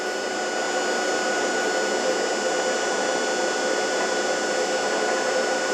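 A generator engine held at speed under a 500-watt load gives a loud, steady, unbroken drone with a constant whine running through it and no talking.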